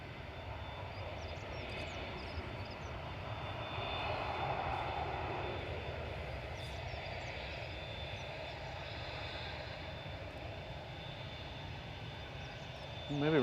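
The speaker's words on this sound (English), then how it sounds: "Singapore 51 just touching down on 23 right" A Singapore Airlines Airbus A350-900 touches down on the runway at Manchester Airport, giving off a steady, distant roar of jet engines that holds evenly throughout.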